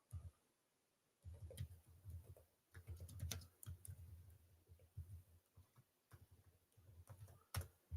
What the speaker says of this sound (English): Finish typing this one.